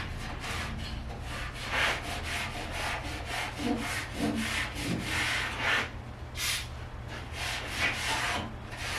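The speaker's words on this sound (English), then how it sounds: "A brake cleaner, a little rag." Rag rubbing and wiping a Porsche 924 car part soaked with brake cleaner, a steady close scrubbing texture with repeated strokes and a brief hiss of spray midway, no talking.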